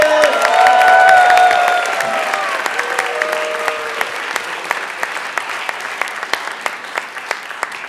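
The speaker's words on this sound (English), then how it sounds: "more big round of applause for our kids" An audience claps loudly after a children's Christmas production of Alice in Christmas Land, with sustained applause that thins out into scattered claps, while music or tones fade underneath at the start.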